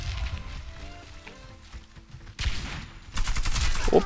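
Gunfire in the Warface online shooter, rapid automatic bursts ringing out loud and close, getting heavier toward the end, with no talking.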